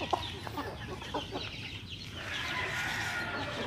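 Backyard chickens cluck in short, uneven bursts close by, with soft farmyard noise beneath and a faint voice in the background.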